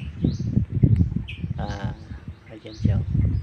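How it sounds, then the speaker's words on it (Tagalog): Various wild birds call beside the sea, with short chirps and tweets scattered under close talking. "Dami ng tunog ng mga iba't ibang ibon"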